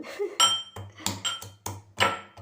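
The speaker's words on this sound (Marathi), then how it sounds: "घेते मी लसूण पाकले ठेचून चांगले" Garlic cloves being crushed in a kitchen while a red fish curry is prepared, a series of sharp pounding knocks with clinking ringing tones, irregularly spaced, close and fairly quiet.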